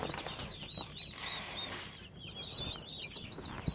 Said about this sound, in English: I'm pretty sure it's the turkeys that make that sound.